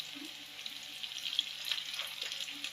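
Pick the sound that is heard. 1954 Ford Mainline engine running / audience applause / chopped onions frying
chopped onions frying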